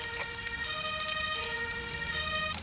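An ambulance siren in the video game Emergency, with a steady electronic wail held throughout, mid-distance and moderately loud over a rain-like hiss.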